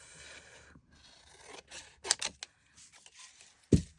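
Scrap paper cut with scissors at a desk, heard as a few quiet snips and rustles with one sharper clack near the end, close and faint, with no talk.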